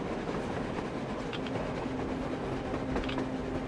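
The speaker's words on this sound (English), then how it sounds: "A train! A damn train on the surface!" Train running on the surface in the Metro Exodus video game, a steady rumbling rail clatter with rhythmic wheel clicks and a faint tonal hum, heard at a distance with no talk.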